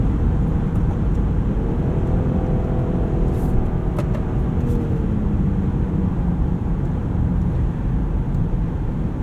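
A Range Rover Sport plug-in hybrid SUV corners hard in dynamic mode as its 8-speed automatic shifts quickly, a loud steady cabin drone of engine and road noise with subtle rev changes throughout.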